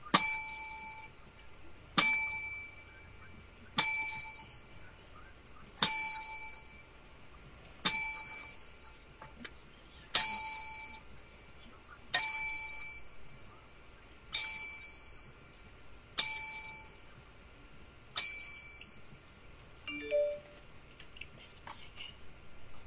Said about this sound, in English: 10 bells, if you will, please